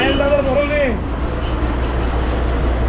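Sahil Travels bus pulling in, a loud low engine rumble and road noise close by, with someone speaking briefly at the start.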